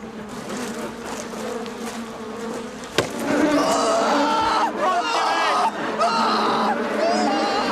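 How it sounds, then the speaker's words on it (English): Bees swarm loudly around a beehive, a dense, continuous buzz that swells after a sharp knock, with voices and crowd babble mixed in. "Well, look at that. It's a beehive."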